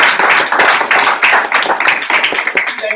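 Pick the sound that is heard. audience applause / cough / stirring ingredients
audience applause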